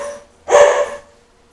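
A single sharp dog bark, loud and close, cutting through a quiet indoor kitchen with a faint steady hum behind it.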